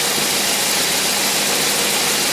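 A two-barrel engine runs steadily under a hydraulic load unit, a loud continuous droning roar with no pauses and no talking.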